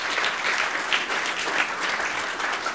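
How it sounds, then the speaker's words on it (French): Dense applause from a conference audience at a closing keynote, steady and sustained throughout with no pauses and no voices above it. "Bravo, on peut vraiment l'applaudir"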